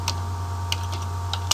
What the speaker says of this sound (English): Let's just type that out.